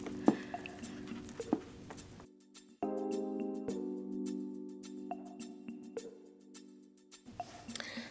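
Soft wet squishing and dripping as the toe box of a soaked Christian Louboutin shoe is pressed in water, with sloshing between quiet pauses and a low steady hum underneath.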